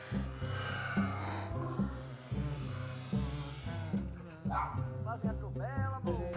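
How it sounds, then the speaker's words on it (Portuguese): Dogs yip and bark playfully in short bursts, with a low hum and some indistinct voices in the background. "Olha só, os cachorros brincando."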